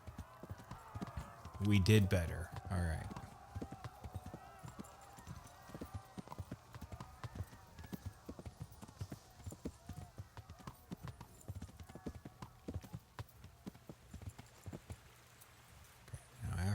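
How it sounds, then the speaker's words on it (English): A horse ridden in the video game Kingdom Come: Deliverance clip-clops in a steady hoofbeat rhythm, with a short louder whinny early on, while a player talks over it. "let's go horse riding"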